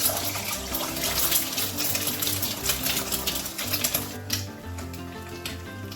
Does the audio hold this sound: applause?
no